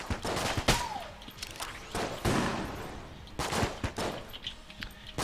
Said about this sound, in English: It has the burst attribute, which I guess means it fires in bursts